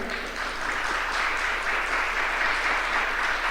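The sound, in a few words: applause in church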